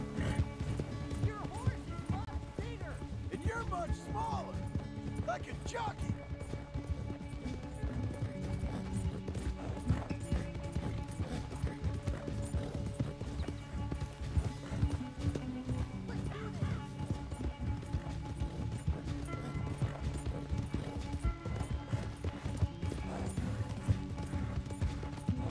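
Horse hooves gallop in Red Dead Redemption 2, giving a rapid, continuous clip-clop beneath game music and sound effects, while someone talks over the action.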